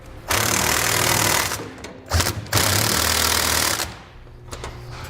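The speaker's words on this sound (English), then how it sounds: "with a 3/4 inch socket, we're going to tighten all of our hardware, holding our center section in place" Power impact wrench with a 3/4 inch socket tightening gooseneck trailer hitch hardware on a 2014 Toyota Tundra, in loud near bursts of rattling hammering with short pauses between them.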